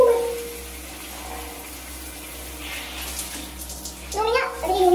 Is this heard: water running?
yes